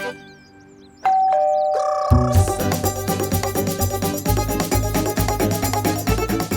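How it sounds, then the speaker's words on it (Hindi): A doorbell chimes in a ding-dong pattern with clear sustained tones, then a loud, full musical passage takes over and plays continuously. "बजी घंटी।"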